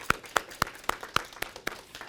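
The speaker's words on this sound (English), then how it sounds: "Give yourselves a round of applause." An audience at a faith talk claps in a short, sparse burst of about eight sharp claps at a steady, fairly quick rhythm, close and moderately loud, with no voices over it.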